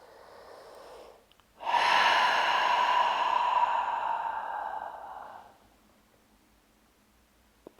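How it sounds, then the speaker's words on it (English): A long, breathy exhale during a guided upper-body fascial release exercise, starting abruptly after a softer breath and fading out over several seconds, close and alone. "Breathing."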